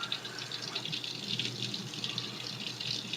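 Water from a kitchen tap runs steadily into a big glass, a soft continuous splashing hiss heard close up for a few seconds, with no voices over it.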